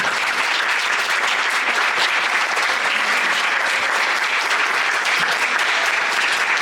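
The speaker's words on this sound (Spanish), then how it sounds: "nuestro compañero Emiliano Palau, así que les voy a pedir un aplauso para nuestro compañero." An audience at a panel session on social cohesion and community safety breaks into steady, loud applause, a dense even wash of clapping that continues throughout.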